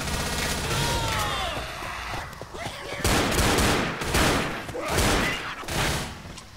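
Dual pistols fire in the video game Left 4 Dead, with rapid, loud bursts of shots in clustered volleys through the second half and busy game sounds before them.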